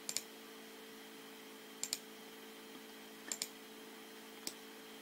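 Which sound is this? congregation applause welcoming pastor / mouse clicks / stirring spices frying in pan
mouse clicks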